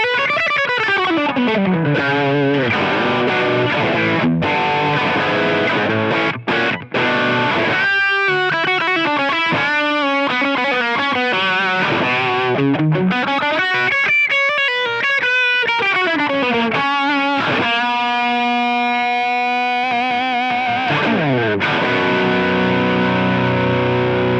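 An electric guitar runs through the Line 6 Helix Placater amp model with a compressor added, playing a steady stream of sustained, evenly levelled notes and phrases for the whole stretch, with no talk.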